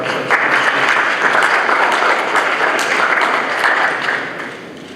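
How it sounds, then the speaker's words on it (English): Dense, steady applause from an audience follows a presentation by Dr. Alejandro Chadak, holding loud and even for about four seconds before thinning slightly at the end. "please give a round of applause for"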